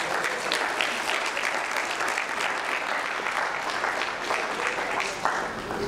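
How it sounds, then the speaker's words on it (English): An audience at a city's State of the City address gives a steady round of applause, a dense even clapping that lasts about six seconds without pause. "round of applause, you guys, for the family"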